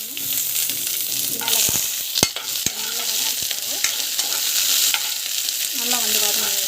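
Oil sizzles steadily in a pan while chutney is cooked, with a few sharp clicks of a spoon stirring against the metal over the continuous hiss.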